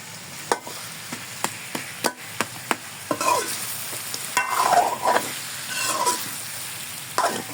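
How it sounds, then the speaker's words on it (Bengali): A spoon breaks up a fish head while frying with vegetables for a Malabar spinach chorchori, with sharp, evenly spaced taps against the pan followed by scraping strokes over a steady sizzle. "মাছের মাথাটা একটু চামচ দিয়ে ভেঙে দিতে হবে।"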